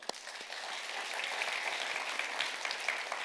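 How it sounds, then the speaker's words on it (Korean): A church congregation gives steady, dense applause of encouragement for its leaders during a worship service, an even wash of many hands clapping at moderate, slightly distant volume for about three seconds. "격려의 박수 한번"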